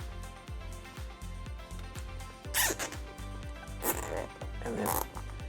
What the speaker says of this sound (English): So you're gonna take a zip tie and you're gonna put it through.